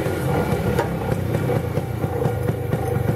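A motorcycle being fitted with a new 12-volt headlight, its engine running at a steady, close, loud idle with a rhythmic mechanical clatter, and no talk.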